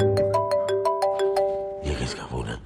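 A phone ringtone chiming in a home, a quick series of bright repeated tones over about a second and a half, followed by people talking.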